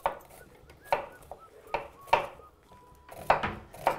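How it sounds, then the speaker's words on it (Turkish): A knife thinly slicing onions on a cutting board for a köfte sauce: about seven crisp, separate chops at an uneven, unhurried pace, close and clear against a quiet kitchen background. "Ben de size sosu için soğanını doğrayayım."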